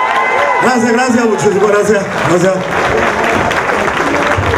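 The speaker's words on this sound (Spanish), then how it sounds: "Señores, yo quiero un aplauso, dominicano." Audience applause at a Dominican gala show, a crowd clapping steadily beneath a voice thanking them, with the clapping growing denser and more prominent toward the end.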